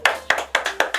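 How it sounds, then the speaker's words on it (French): A woman claps for herself, five crisp hand claps at an even pace, close and clear with no talk. "A clap for myself."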